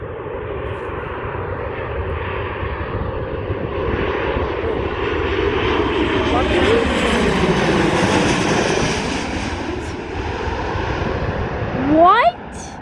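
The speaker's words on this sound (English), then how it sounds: "Guys, we have another plane" A Sun Country airplane at Dulles airport roars past, its engine noise swelling and then fading with a falling whine, heard from a plane-spotting spot. A brief sharp rising chirp comes near the end.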